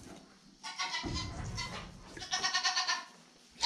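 A goat bleating close by in a farm pen, a wavering, quavering call that runs for a couple of seconds, with a burst of rustling movement just before it.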